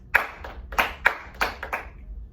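Several people in a classroom lesson clap together in a rhythmic pattern of grouped claps. The claps are crisp, close and slightly ragged in unison, and nobody speaks.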